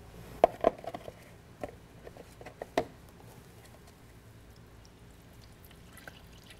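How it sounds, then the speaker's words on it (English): Prestone Flush Plus cleaner mixed with distilled water is poured into a car radiator during a cooling-system flush. Soft, faint liquid pouring with a few sharp drips and clunks early on, then quieter trickling, with no talking. "now we can start the flushing process with our Prestone Flush Plus Cleaner mixed with distilled water"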